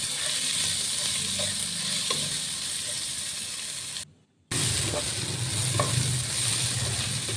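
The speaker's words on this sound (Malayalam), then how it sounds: "ഇളക്കി കൊടുത്ത് നല്ലോണം മൂപ്പിച്ചെടുക്കാം" Sliced onions sizzling in hot oil in a pan, stirred now and then while browning for a crab roast, a steady close frying hiss with scraping and a brief break partway through.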